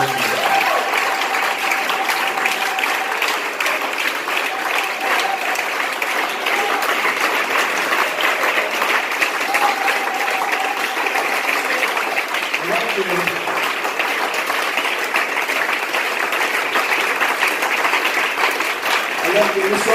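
A church congregation applauds and acclaims with sustained, dense clapping that runs for the whole stretch, loud and steady, with voices cheering and calling out underneath.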